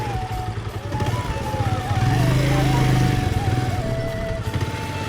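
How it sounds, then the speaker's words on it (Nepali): A motorcycle straining up a steep uphill track, its engine droning loud and close with a rising, labouring pitch that swells mid-climb and eases slightly, with no other sound over it. "आमा बाइक तातिरहेको छ"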